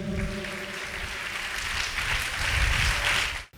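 A church congregation at a Telugu sermon applauds together, dense steady clapping that holds for a few seconds and then cuts off abruptly.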